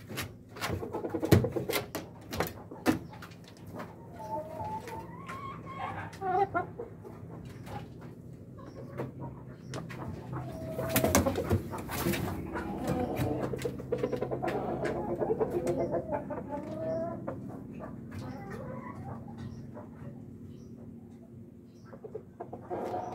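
Rhode Island Red rooster at a breeder's farm, with clucks and crowing-like calls amid scattered clatter and background rustle, moderately close, no talking.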